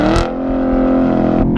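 A 6th-generation Chevrolet Camaro SS with a 6.2-liter V8 and a Corsa Extreme catback exhaust holds a loud, steady rev, its deep rumble droning evenly before dropping off near the end.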